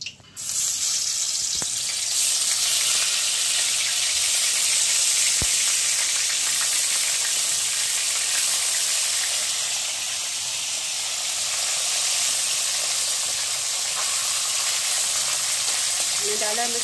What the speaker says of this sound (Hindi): मैंने तेल ऐड किया, हो जाएगा तेल, फिर मैं मछली का डाल के फ्राई करूँगी